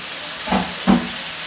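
Two short, sharp hisses of steam rise as water hits frying spice paste in a hot pan for a puthi fish curry, close by.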